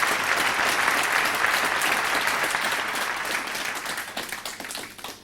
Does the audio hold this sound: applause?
yes